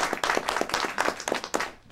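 Studio audience on a TV talk show clapping, a dense burst of applause that rises and dips over two seconds, fairly close and loud with faint talk mixed in.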